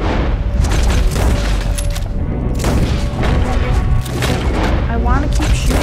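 Gunfire in Red Dead Redemption 2 during the game's ending mission: heavy booming shots and rapid volleys overlap in a dense, loud barrage, mixed with shouting voices and game sound effects.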